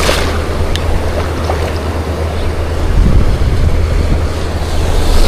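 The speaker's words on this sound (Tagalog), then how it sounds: "Timing pa, malaki na yung mga alon." Large ocean waves break and surge in a steady, loud roar with heavy wind buffeting the microphone, while a boat's engine hums low underneath throughout.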